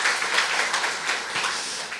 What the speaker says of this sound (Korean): 수고했다고 큰 박수로 축복해 주시기를